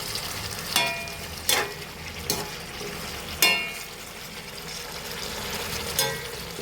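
Chicken pieces for a Thiruvananthapuram-style chicken fry sizzle steadily in a pan, with sharp scraping stirs every second or so as they are turned; no talking.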